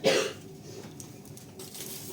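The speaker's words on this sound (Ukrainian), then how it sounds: "Не кашляй на мене." A person gives one sharp, close cough, followed by quiet kitchen room tone and a faint rustle near the end.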